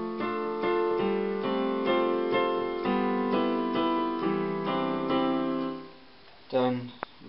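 Piano chords from a song sound close and steady, a series of sustained, evenly spaced voicings that ring together, followed by a brief bit of handling noise at the end.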